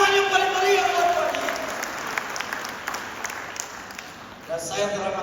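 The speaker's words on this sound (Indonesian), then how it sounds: "Berikan tepuk tangan yang paling meriah buat Tuhan." Church congregation at a New Year service in Purwakarta breaks into lively applause and cheering, a dense wash of clapping that fades slightly before a voice and music return at the end.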